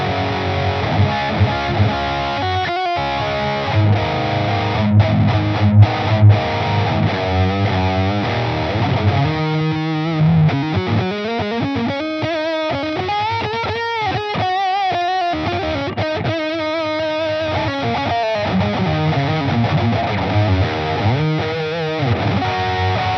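Distorted electric guitar through a BOSS GT-1000 with a close-miked Marshall cabinet impulse response, a loud continuous riff of chugging palm-muted notes and ringing sustained bends over about twenty seconds, playing alone without talk.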